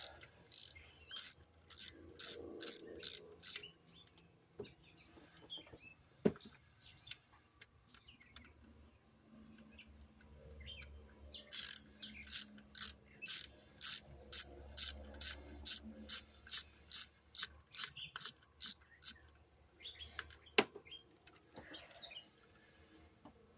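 Ratchet clicking in quick repeated bursts while a bolt is backed out behind the coil pack of a 1996 Chevrolet Lumina engine, with two runs of sharp rhythmic clicks separated by a pause and occasional clunks.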